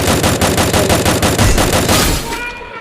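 Rapid automatic gunfire from a Free Fire-style shooting game during a headshot fight, a loud continuous burst of evenly spaced shots for about two and a half seconds, then trailing off without talk.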